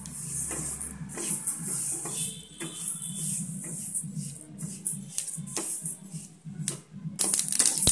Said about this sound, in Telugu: చూడండి, ఇది కాస్త చిటపటానికి సౌండ్ వస్తూ ఉంటుంది.